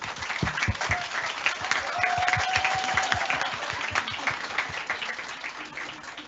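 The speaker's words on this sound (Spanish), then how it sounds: "La recibimos con un aplauso." An audience at a panel event on gender equity in Chile applauds a panelist being welcomed, steady clapping from a modest crowd with distinct individual claps and a faint brief tone.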